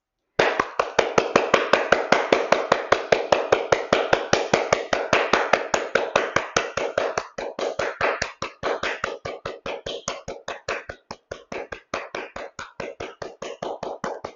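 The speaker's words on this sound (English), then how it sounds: "We're going to clap for 30 seconds." Steady, rhythmic hand clapping during a standing qigong exercise, dozens of sharp close claps in a quick even series that softens a little partway through, with no talking.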